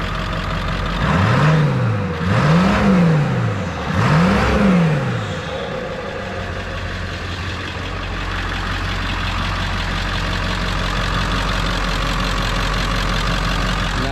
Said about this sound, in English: Definitely has a little bit more intake noise now.